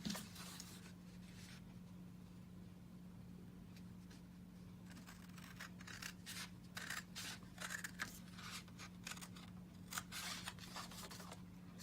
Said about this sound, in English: Okay, and the top and bottom piece, we're going to cut those completely off.